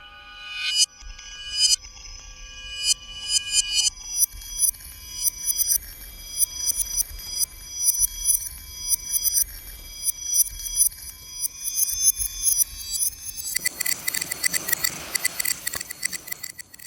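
A reversed Soundiron Little Epic Percussion sample is played at different octaves: a series of swelling, bell-like tonal hits that build in quick succession and end in a denser, noisy burst, with no talking.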